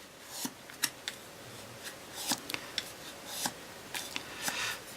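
A bone folder rubbed along paper card to curve it gives soft, close scraping and rustling strokes in irregular bursts, fairly quiet, with no talk.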